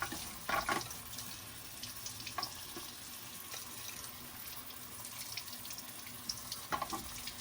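Water from a tap runs steadily as a pair of shoes is rinsed beneath it, a continuous faint splashing and hiss with a few brief louder spatters.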